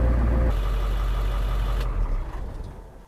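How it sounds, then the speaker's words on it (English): A 1998 International T444E diesel truck engine runs at high idle while warming up, a loud, steady low rumble close by that eases off and fades toward the end, with no voices. "I'm gonna set the high idle, let it get nice and warm, and then we'll shut it off"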